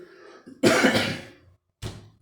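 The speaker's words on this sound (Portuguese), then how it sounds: "estou tossindo um pouco aqui, é por causa desse frio" A harsh, close cough bursts out after a soft breath, followed by a second shorter cough; no talking.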